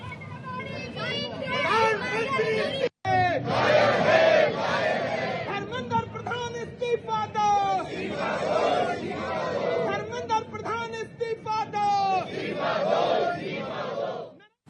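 Protesters, including opposition lawmakers, shout and chant outside parliament in a loud, continuous crowd din with overlapping raised voices and rhythmic slogans, briefly cut by a short gap.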